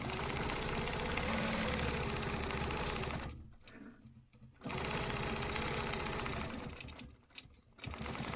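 A sewing machine stitches a stencil quilting project in rapid continuous bursts, its fast mechanical whirr running steadily, pausing briefly twice before starting up again close by.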